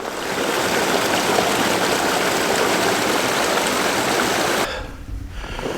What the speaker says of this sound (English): Bridge here, crossing this creek.